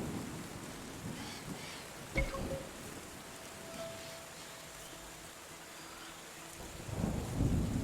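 Rain and thunder in the game Terra Nil: steady rainfall hiss with a sharp thunder crack early on and another rumble swelling near the end, no talking.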